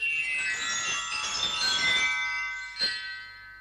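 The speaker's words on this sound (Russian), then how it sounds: "колокольчики заиграли" Tinkling bells of a music box in a snuffbox, a bright shimmering cluster of chimes that fades out, followed by one last single ring.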